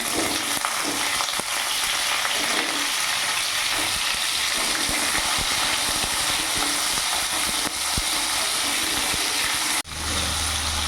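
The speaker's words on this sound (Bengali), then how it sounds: "আলুটা কিছুক্ষণ নাড়াচাড়া করে ভেজে নিয়েছি।" Diced potatoes fry in hot oil over spice tempering for a vegetarian pumpkin ghonto, giving a loud, continuous sizzle with scraping stir strokes, and a sudden brief dip just before the end.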